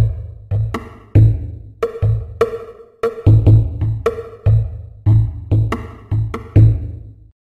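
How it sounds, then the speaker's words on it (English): Drum kit built from video game sound effects, with reverb and boosted high mids, plays a steady groove of punchy kicks and snappy snare-like hits in a repeating rhythm, loud and close with no talking. "Drum kit sounds like this."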